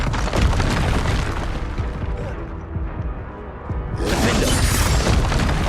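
Confringo explosive spell blasts in Hogwarts Legacy, heavy booming bursts with crackling debris, a dense loud roar that dips briefly before another powerful blast swells.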